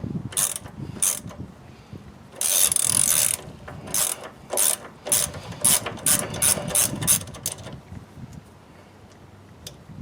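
Ratchet cranking a 1/2 inch (13 mm) socket on suspension bolts of a 1988-98 4x4 Chevy Silverado during an upper control arm job: bursts of quick, close metallic clicking, one long sustained run, then short repeated strokes.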